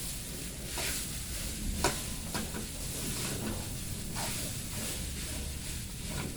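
Fried rice sizzles in a pan with a soft, steady hiss, broken by occasional scrapes and taps of stir-frying at a moderate, close distance.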